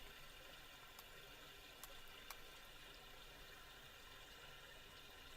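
A creek flows steadily nearby, a faint continuous rushing wash with a few tiny clicks and no voices.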